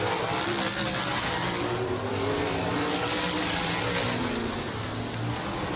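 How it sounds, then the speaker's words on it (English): Sprint cars, Crown Vics and mini stocks roar around Showtime Speedway in a heat race, engines loud and continuous with rising and falling revving as cars pass, no talk over it. "Just 2 laps remain for Davey Hamilton Jr. in the number 14"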